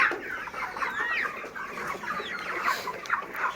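Broiler chickens of about two and a half kilograms, in a poultry shed after a Ranikhet virus outbreak, cluck and squawk in a continuous, overlapping chorus, fairly close, with no talking.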